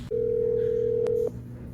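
A steady phone dial tone holds for just over a second, close and clear, as someone places a call, then cuts off, leaving quiet room noise.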